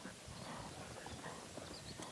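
Horse hooves trot at a steady rhythm in a dressage arena, a continuous clip-clop partly buried in a dense, even wash of background noise.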